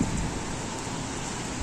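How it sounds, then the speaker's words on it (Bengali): Heavy rain falling outdoors in Saudi Arabia makes a dense, continuous hiss of drops that holds steady through the short stretch. "অনেক বৃষ্টি পড়তেছে বাইরে"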